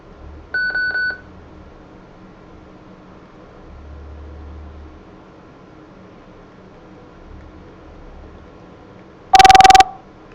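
A ShoreTel office desk phone signals an incoming call: a short electronic beep early on, then a loud, bright ringing burst about a second long near the end, over quiet room hiss.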